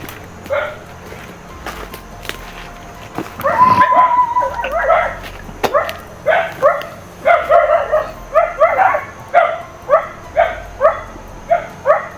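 Dogs bark and yip in a quick series of short, rhythmic bursts, fairly close, with a few whimpers mixed in and no talking.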